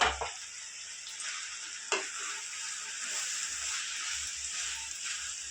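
Chopped ridge gourd and tomatoes sizzle steadily in a hot pan for a prawn curry, a close, continuous frying hiss punctuated by a couple of soft stirring knocks.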